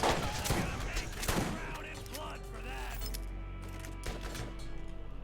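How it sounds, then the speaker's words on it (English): Gunfire from the Borderlands video game, with several loud bursts of shots early on followed by a steady din of game effects and ringing tones. "Just shoot Bonehead until he's down."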